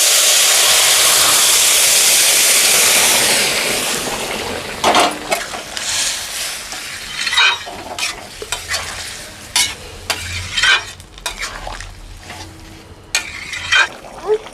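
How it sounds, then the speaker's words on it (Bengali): Pumpkin and potato pour into hot oil tempered with asafoetida for a vegetarian Bengali chhokka, erupting in a loud, hissing sizzle that fades over a few seconds, followed by scattered scraping stir strokes and spatula clatters against the pan. "তরকারিটা ফোড়ন হয়ে গেছে, এবার আমি তরকারিটাকে ঢেলে দিচ্ছি।"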